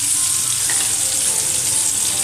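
Spices sizzling in hot oil while cooking Kathiyawadi mag nu shaak, a loud, steady, close frying hiss that continues without a break and with no talking over it.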